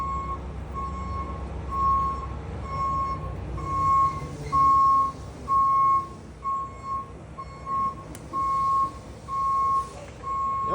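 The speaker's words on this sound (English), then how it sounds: "Milk truck's here." A milk truck arriving and backing up gives off evenly spaced electronic reversing beeps over a low diesel engine rumble, moderately near and steady for the whole stretch, with no talk.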